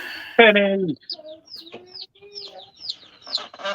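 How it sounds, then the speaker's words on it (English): Chickens clucking at close range: one loud harsh squawk, then a run of short chirpy clucks and calls, with voices talking at moments. "I apologize for the chickens."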